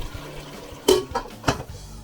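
A little water is poured into a pan of cooking chicken and ridge gourd vegetables, giving a few short splashing bursts close by, with no talk.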